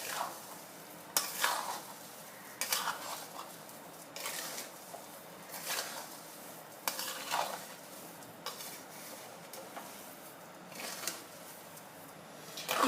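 A coconut mawa burfi mixture with cardamom and sugar powder is stirred in a pan, a spoon scraping in repeated strokes with soft sizzling underneath, quiet and close.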